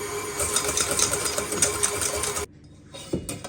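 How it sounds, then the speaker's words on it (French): An electric hand beater whips egg whites for a chocolate Yule log, a steady high motor whir with a low rattle. It cuts off abruptly partway through, leaving brief faint clatter. "on va monter nos blancs au batteur"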